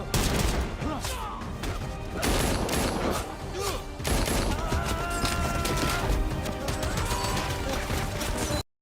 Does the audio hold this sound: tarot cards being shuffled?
no